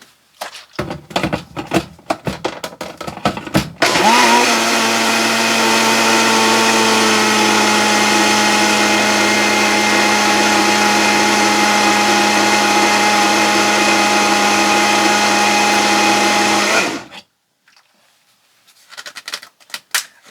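Loud, close blender whirring steadily for about thirteen seconds as it chops fresh herbs such as thyme into a vegetable juice, preceded by clattering and tapping and ending abruptly, followed by quieter handling noises.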